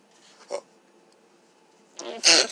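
A single sharp sneeze bursts out near the end, after a soft short sniff earlier and quiet moments between.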